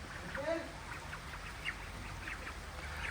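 Ducks quack at a rural village home in faint, scattered bursts, a few calls rising over a quiet background that may hold soft, distant voices.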